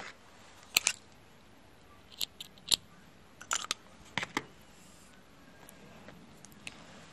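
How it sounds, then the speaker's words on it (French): Small scissors snip embroidery thread during cross-stitch work, giving several sharp, quiet clicks in irregular clusters against a faint background hiss. "je vais couper le fil"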